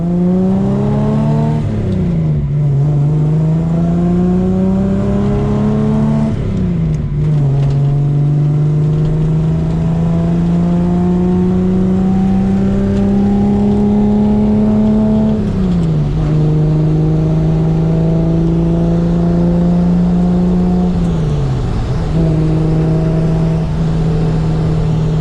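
A 1973 Datsun 240Z engine revs loudly and close, its pitch climbing and dropping through several shifts and sustained pulls across the whole stretch, with no voices.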